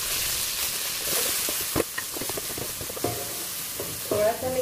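Tomato frying with browning onions in a pan while being stirred, a loud steady sizzle with scraping stir strokes and a few clatters of the spoon.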